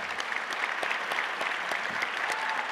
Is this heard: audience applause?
yes